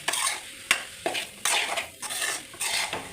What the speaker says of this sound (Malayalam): എല്ലാം കൂടെ ഒന്ന് മിക്സാക്കി എടുക്കാം